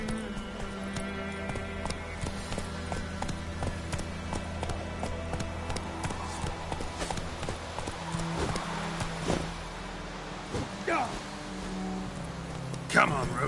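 Roach the horse galloping in The Witcher 3 game, steady rhythmic hoofbeats under ambient game sound and music, with voices talking over the ride.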